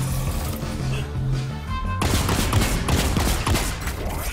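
Fortnite gunfire crackles in rapid bursts, loud and continuous, with a heavier volley breaking in halfway through and no voices heard.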